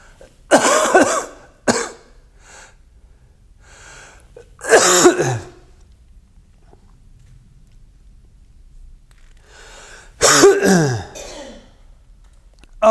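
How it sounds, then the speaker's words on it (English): A man coughs in a few loud, close bursts, the fits separated by stretches of quiet, with a short throat-clearing sound between them. "I got a cough again like crazy."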